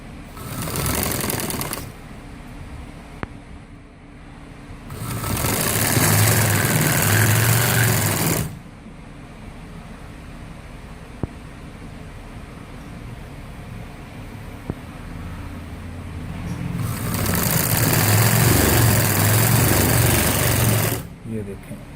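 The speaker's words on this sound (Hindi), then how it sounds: "ये देखें, इस तरह सिलाई लगती जाएगी।" A sewing machine stitching a folded fabric hem on a gents' garment runs in two bursts of steady whirring, each a few seconds long, with quieter pauses between them. The machine sounds close and fairly loud.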